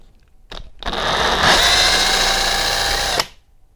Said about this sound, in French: on va également mettre du fluide de coupe sur le foret. Voilà. Et on va pouvoir passer au perçage